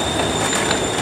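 A Bangkok rail train pulls into a station, its loud steady rumble mixed with squealing wheels and faint clickety-clack, close by and continuous.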